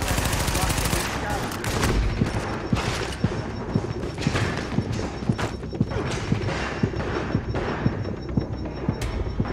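Rapid gunfire fills the shooter video game The Division, with dense bursts and sharp, regularly spaced shots over steady battle noise throughout, loud and continuous.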